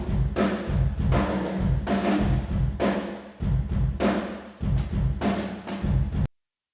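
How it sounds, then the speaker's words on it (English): Drum room microphone soloed from the Mike Mangini sample library, with triggered kick and snare hits alternating in a steady rock pattern, roomy and booming with long ambient decay, about a dozen hits and no talk. "I solo the room mic in the Mike Mangini library and I just trigger the kick and snare"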